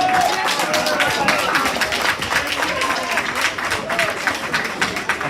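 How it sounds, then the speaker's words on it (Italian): Spectators at an Eccellenza Sicilia football match applaud a substituted player leaving the pitch: steady, dense clapping from the crowd, continuous and fairly loud, with an announcer's voice over it. "Applausi per il numero 11."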